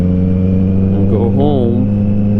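A 2020 Kawasaki Z900 motorcycle cruises with a steady, droning engine hum up close, while a rider's voice briefly speaks over it.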